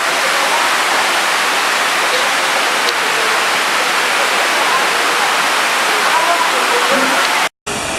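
The waterfall at Villa Escudero roars as a loud, close, continuous wash of rushing water that fills the whole clip, broken only by a brief dropout near the end.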